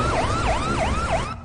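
An ambulance siren in a movie scene wails in a steady rising-and-falling cycle, repeating about four times, loud and close over a low engine rumble, then cutting off abruptly.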